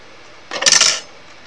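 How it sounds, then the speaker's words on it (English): Several small dice tumble off a cardboard packet onto a hard surface, a quick clattering burst of about half a second, fairly close and clear, with no talking over it. "That's all my dice falling off on my packet."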